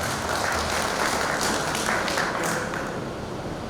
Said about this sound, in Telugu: కర్నల్ నతానియల్ గారి క్లాప్స్ కొడదాం.